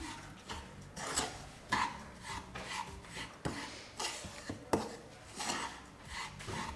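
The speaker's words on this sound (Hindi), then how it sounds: "इस तरह से चलाते हुए हम इसे मिक्स करेंगे।" Powdered sugar is stirred and mixed in a bowl for barfi, giving repeated soft scraping and rasping strokes in an uneven rhythm, close and fairly quiet with no talk.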